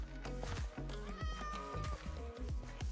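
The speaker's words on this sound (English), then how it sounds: "I just heard a kitty." A white cat in Minecraft gives a run of repeated meows, some drawn out and wavering, fairly close and clear over faint game ambience.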